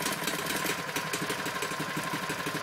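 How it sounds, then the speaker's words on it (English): A small gasoline engine on a Doosan Ingersoll Rand BXR-60H reversible vibratory plate compactor idles steadily nearby while warming up, a rapid, even chugging with a faint mechanical hum and no voices. "You can hear the engine starting to warm up"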